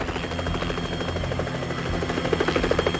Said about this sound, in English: The sound of the raging water is replaced by the roar of the rotor blades.